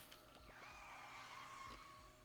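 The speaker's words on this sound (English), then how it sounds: "Tire screech!" Tires screeching in the video game Bear & Breakfast, a faint skidding squeal sliding in pitch for about two seconds over low background hiss, with no talking.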